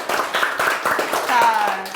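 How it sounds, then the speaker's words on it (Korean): Middle school classmates clap together in a classroom, a short burst of brisk, overlapping claps with voices talking over them. "자, 박수 한번 쳐줘."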